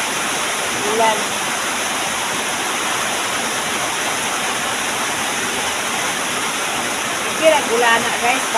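Heavy rain pours down in a steady, dense wash of noise, with a few faint brief sounds around the start and near the end.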